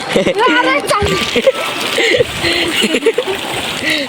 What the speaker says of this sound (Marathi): आम्ही या पाण्यातून चाललोय